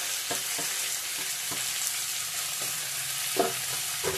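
Peas, small potatoes and paneer curry frying in a pan with salt, a steady close sizzle broken by a few stirring scrapes and knocks, with no voices.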